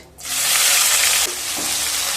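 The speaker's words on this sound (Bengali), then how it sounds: "তেল থেকে যখন সুন্দর একটা স্মেল বেরোতে শুরু করবে সেই সময় দিয়ে দেব একটা বড় সাইজের কেটে রাখা পেঁয়াজ" Chopped onion dropped into hot oil with cinnamon and cumin in a kitchen, bursting into a loud, steady sizzle that stays strong and close with no talking.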